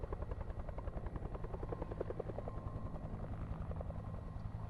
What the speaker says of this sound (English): Sounds like a chopper.